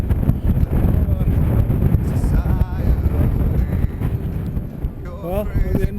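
Strong wind buffets the microphone on a walk beside a loch on a hill, a loud steady roar with gusty swells and a voice speaking over it.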